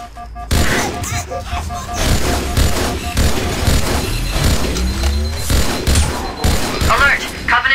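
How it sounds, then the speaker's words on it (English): Stationary guns fire in the Halo video game on the level The Truth and Reconciliation: rapid, loud bursts of gunfire and booming impacts roll on continuously, with voices heard over the barrage. "Those stationary guns are gonna tear us to pieces!"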